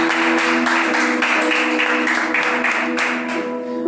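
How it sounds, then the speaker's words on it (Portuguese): Congregation clapping hard in rhythm at a church family service, steady loud claps over sustained music with no one speaking. "Palmas bem forte para Jesus nesta noite."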